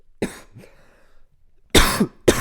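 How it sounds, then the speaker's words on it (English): Two bursts of harsh coughing, the first short and the second longer and louder, separated by a quiet stretch with faint sounds. "now that my coughing fits are back"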